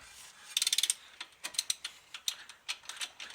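Socket ratchet wrench working on the front hub of a 1998 Dodge Ram 1500 4x4 truck: a quick burst of fast, close clicks followed by several shorter, irregular runs of ratcheting with brief pauses, no talk.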